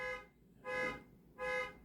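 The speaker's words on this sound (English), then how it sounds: "they do something and their alarm keeps going off" A nearby electronic alarm beeps in three evenly spaced, sustained tonal bursts with short gaps between them, heard alone at moderate volume.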